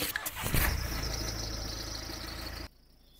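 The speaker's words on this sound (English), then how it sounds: "however, start the car first" A 2017 Nissan X-Trail engine cranks and catches after a few quick clicks, then settles into a steady, close idle rumble for about two seconds before cutting off abruptly.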